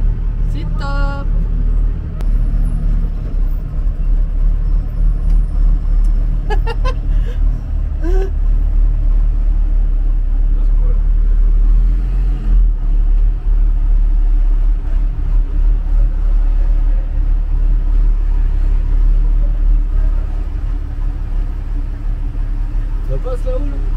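A truck engine runs steadily at a mechanic workshop in Turkey. It rumbles loud and continuous through the whole stretch, with people talking nearby and the background noise of the workshop.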